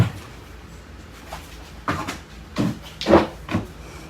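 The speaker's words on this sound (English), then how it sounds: "help me lay this door down" A wooden door is laid down onto boards outdoors, producing several irregular knocks and bumps of wood on wood, the loudest thud coming near the end with no talk.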